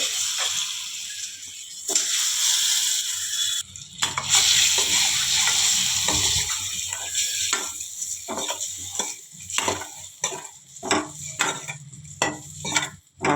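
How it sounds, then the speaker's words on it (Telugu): Eggs frying in oil in a pan for a village-style egg curry, with steady loud sizzling and hissing, then brief stirring scrapes and clinks as the sizzle breaks into bursts. "ఇట్లా మంచిగా నూనెలో కలుపుకొని ఇందులోకి ఎగ్స్ వేసుకోవాలి"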